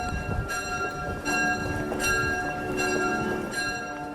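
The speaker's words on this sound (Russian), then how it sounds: "на звонницах храмов ударили колокола" Church bells ring out from belfries in a steady, evenly spaced series of resonant strikes, their tones lingering over a low background murmur.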